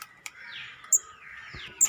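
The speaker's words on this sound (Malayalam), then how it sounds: "കണ്ടാ ഗൈസ്, കുഞ്ഞു കിളി." A small bird gives a few thin, high chirps, with two brief sharp calls standing out against a quiet indoor background, close by and with no talking.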